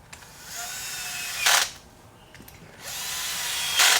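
Power driver sinking screws into a wooden bait table, two short loud whirring bursts separated by a quieter pause, close by with no talking.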